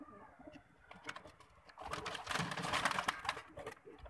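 Racing pigeons in a loft in Amroha, Uttar Pradesh, coo softly in a low, rolling murmur that grows louder and denser through the second half, with bursts of rustling and fluttering over the steady calls.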